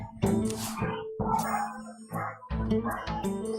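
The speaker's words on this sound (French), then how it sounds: "C'est chez qui les toutous?" Small dogs barking in short repeated bursts, fairly close and loud, heard indoors and outdoors during a card game session, with a ding-like chime mixed in.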